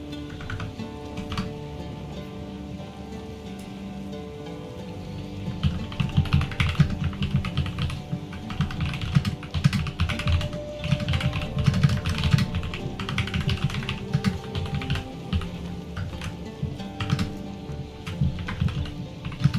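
Notes are typed on a computer keyboard during a Path of Exile 2 session, producing a continuous, close run of quick plastic key clicks with irregular bursts and pauses and no voices.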